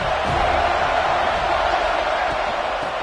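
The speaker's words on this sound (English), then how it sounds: "This crowd ready to make its presence known." A stadium crowd in a college football video game cheers in a steady, dense wash of noise, loud and continuous throughout with no distinct breaks.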